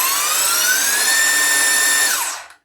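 A Bosch GBH18V-34 CF 18V SDS-Max hammer drill spins up with its soft start into a loud, high-pitched steady whine, holds for about two seconds, then winds down quickly, close by and alone.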